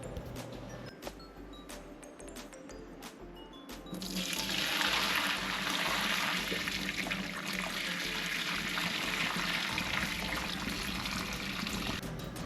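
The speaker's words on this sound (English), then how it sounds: "Now I'm gonna add some boiling water to the oxtail and beef" After a few clinks, boiling water starts pouring steadily into a pot of oxtail and beef with a continuous rushing splash, close by and without talk.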